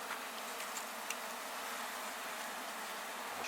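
A swarm of black bees at a château gives off a dense, continuous buzzing hum that stays steady and close throughout, with no voices.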